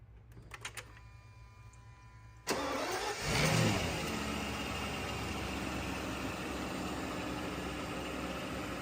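A car engine cranks and catches with a sudden loud start, revs briefly, then settles into a steady, close idle that runs on unchanged.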